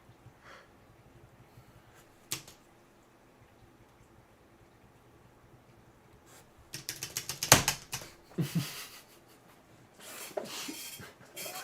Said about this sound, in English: Slams that on keyboard.